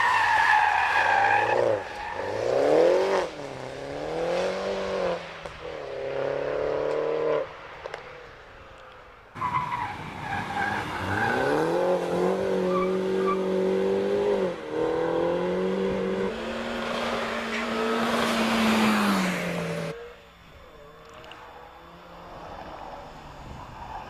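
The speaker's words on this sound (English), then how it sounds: "in his BMW Mini Cooper S, the 1600cc version" BMW Mini Cooper S 1600cc racing up the Prescott hill climb, engine revving hard and rising and dropping through gear changes as it passes fairly close, with tire squeal, then fading into the distance.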